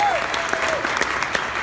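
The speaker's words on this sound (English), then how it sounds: "Let's give them a round of applause for their" Audience applause at an awards honoree event, a steady wash of clapping hands lasting under two seconds, fairly close and full.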